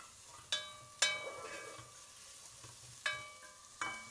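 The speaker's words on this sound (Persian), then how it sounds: "الان روی حرارت ملایم پیازا رو میریزم توی قابلمه به همراه کره تا یه کوچولو اینا نرم شن" Onions soften in butter in a pot over low heat, giving a faint, steady sizzle broken by about four sharp clinks of a utensil against the pot.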